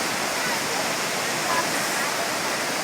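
Natural waterfall at Wulai, a continuous loud roar of rushing, splashing water with no pauses.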